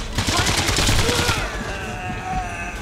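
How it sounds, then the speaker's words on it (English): Gunfire in the video game Sniper Elite 3, a dense, loud burst of rapid shots and impacts filling the first half, then easing into a lower rumble with lingering tones as a voice talks underneath. "Oh god, I'm being shot at."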